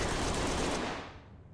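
Gunfire in the video game Ready or Not: a fast, dense burst of shots packed together, fairly faint, fading out after about a second with no voices.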